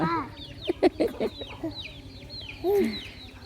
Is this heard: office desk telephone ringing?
no